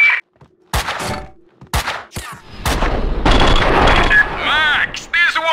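Gunfire in the PC shooter Max Payne 2 (2003): short sharp shots and bursts mixed with game sound effects and music, while characters speak between and over the shots.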